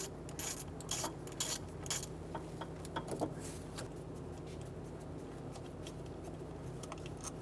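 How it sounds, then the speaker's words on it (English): A 6mm hex head on a ratchet loosens the ignition coil bolt on the rear of the engine of a 2003–2008 Honda Pilot, giving a burst of close, quick clicking ratchet strokes, then quieter handling noise over a low hum. "Using a 6mm hex head, we're going to remove the bolt holding the ignition coil."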